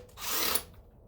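A ratchet with a 7/8 socket turns out a knock sensor on a 1995 Camaro, giving one short, faint, rasping mechanical whir that swells and then fades.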